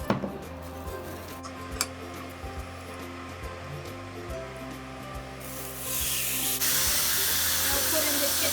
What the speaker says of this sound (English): First, put on some non-stick spray.